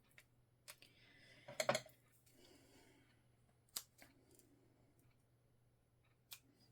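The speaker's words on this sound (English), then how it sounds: "And let's just use the biggest scissors Lori has for a little teeny tiny button." Large scissors snip packing paper in a quiet room: a few faint, isolated sharp cuts and clicks, with one louder cluster of snipping early on.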